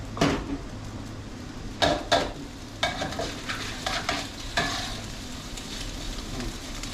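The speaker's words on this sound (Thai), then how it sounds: "นี่ทอดไข่นี่ให้มันสุกข้างเดียว" An egg fries in a hot pan with a continuous crackling sizzle, broken by several sharp clanks and knocks of utensils and cookware against the pan.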